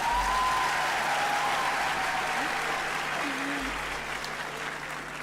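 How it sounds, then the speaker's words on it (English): Steady, dense applause from a large audience at a graduation ceremony fills the space throughout, with faint background voices and whistle-like tones over it. "can we give him a round of applause?"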